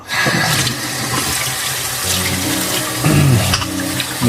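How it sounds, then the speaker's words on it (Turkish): Hot water and boiled squid pour through a colander, a loud splashing gush with a sharper burst of draining near the end. "Süzgeçten geçirdik bütün kalamarı."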